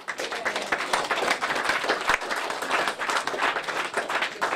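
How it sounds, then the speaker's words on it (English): Audience at a Conservative Party conference claps in a brisk, uneven burst, individual hand claps standing out within the crowd's applause at moderate loudness. "And for that, I must applaud you."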